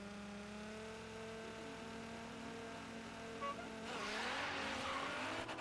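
Game cars launching off the start line in the Forza Horizon 3 race, a Porsche among them, with steady engine drone rising into a louder burst of revving and tire noise near the end, with no talk.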